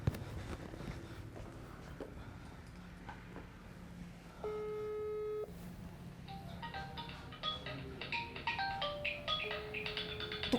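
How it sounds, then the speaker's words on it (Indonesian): A mobile phone rings inside a house, a muffled, melodic ringtone playing a series of tones from behind walls, heard from outside on the front terrace amid faint background noise. "Di dalam ada suara HP berdering Pak."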